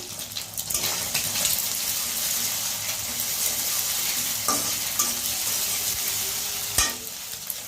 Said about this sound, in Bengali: আমার ডিম দুটো ভাজা হয়ে গেছে